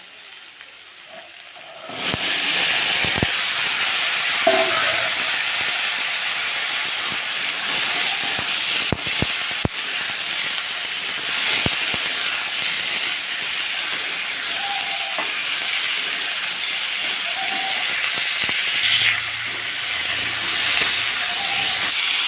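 Peas and potatoes fry in hot oil, giving a steady, loud sizzling hiss that starts abruptly and continues unbroken, with faint scattered pops and clicks of cooking underneath.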